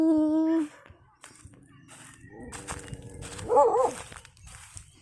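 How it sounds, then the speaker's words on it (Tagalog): A dog gives a single loud bark, then a few quieter whimpering yelps follow amid soft footsteps and low background sounds. "May aso."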